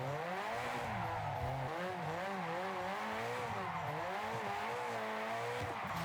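Car drifting in a racing video game, engine droning and wavering in pitch as the revs rise and fall, with tyre squeal layered over it, continuous and fairly faint.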